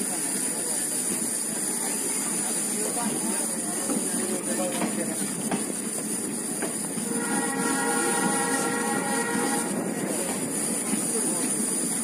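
The Devagiri Express runs through the monsoon with a loud, steady rumble heard from on board, and a horn sounds partway through, drawn out for a couple of seconds.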